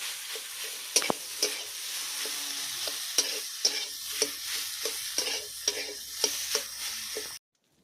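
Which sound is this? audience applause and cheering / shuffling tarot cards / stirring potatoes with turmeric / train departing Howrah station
stirring potatoes with turmeric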